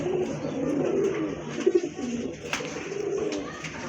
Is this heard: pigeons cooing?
yes